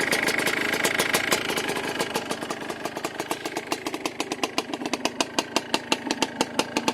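Yamaha Blaster ATV engine running in neutral with no chain fitted, a loud close single-cylinder putter that starts as a dense rattle and settles into slower, evenly spaced firing pulses toward the end.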